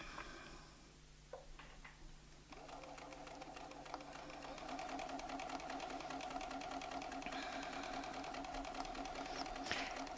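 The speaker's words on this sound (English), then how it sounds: "So now what I'm going to do is sew around that template" A domestic sewing machine stitches around a quilt template, starting with a few hesitant clicks before settling into a fast, steady mechanical whir with a rapid ticking rhythm close by.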